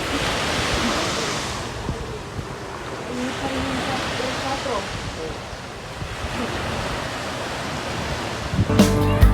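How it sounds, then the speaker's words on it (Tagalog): Ocean waves roll and crash onto the beach at Ibas, Zambales. A steady, rushing surf swells and recedes in broad surges under wind noise, with a few louder knocks at the very end. "Pakinggan ninyo ang hampas ng alon."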